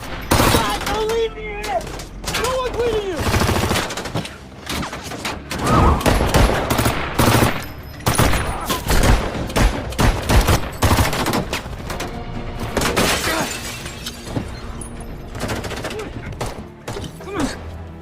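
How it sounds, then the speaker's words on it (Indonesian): Gunfire rings out through an action film shootout as a robber is fired upon, with dense bursts of shots and automatic fire mixed with impacts and crashes. Voices are heard amid the loud, continuous chaos. "Steve segera membantu Mike menembaki satu perampok tersebut"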